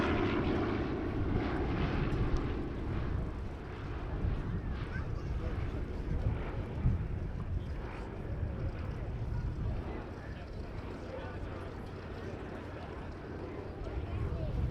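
A Douglas DC-3 Dakota flying at an air show: a continuous loud piston-engine drone with wind rumble, holding steady throughout while someone talks over it.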